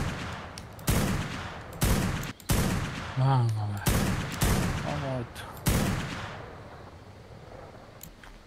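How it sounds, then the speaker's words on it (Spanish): Rockets fire in the game ARK: Lost Island as a series of about seven sharp, loud blasts at roughly one-second intervals, each followed by a short rumble. A player speaks briefly between them. "Están tirando cohetes para afuera"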